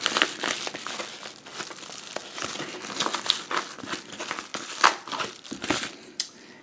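Close crinkling and crumpling of a taped bubble mailer package being handled, irregular plastic crackles and rustles in bursts throughout, with no talking.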